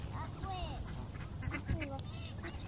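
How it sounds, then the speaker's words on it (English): Ducks and geese quack and honk in a cluster close by while being fed bread on a cool, windy afternoon, with calls overlapping in a steady, busy chatter. "Duck and geese fights."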